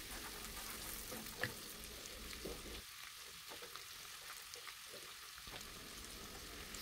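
Garlic sautéing in a pan for beef menudo, a faint, quiet frying hiss with soft irregular crackles and one sharp clink near the start.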